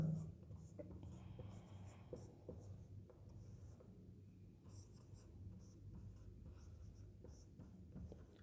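Pen or marker scratching steadily as a maths solution on rationalising a trigonometry denominator is written out, a quiet, continuous, close-up scribble of short strokes with brief pauses and no talking.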